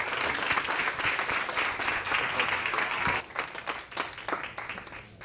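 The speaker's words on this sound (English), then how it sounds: "One more time, a nice round of applause for Thomas Turley and our friends at Searchspring." An audience applauding after a talk on personalized shopping experiences, with loud, dense clapping for about three seconds before it breaks into scattered, thinning claps.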